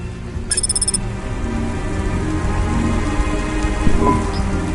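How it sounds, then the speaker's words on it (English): Steady heavy rain falls throughout a night-city scene in the video game Cloudpunk, a dense continuous wash with a low rumble underneath and a brief high chime near the start. "Welcome to my humble restaurant in the rain."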